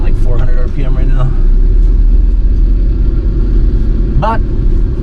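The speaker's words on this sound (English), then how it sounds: "It's idling at like 400 RPM right now." A 1973 GMC C2500 pickup truck engine idles very low and steady, a loud close rumble running throughout, with someone speaking over it.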